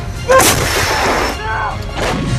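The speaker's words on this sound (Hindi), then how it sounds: "रूस की ये तोप 37 किलोमीटर तक परमाणु बम से भरे गोले ऐसे ही दाग सकती है।" A Russian artillery cannon, a field gun able to fire nuclear-capable shells up to 37 km, fires a shell with a loud, close blast and a sustained roaring rumble, then a second burst follows near the end.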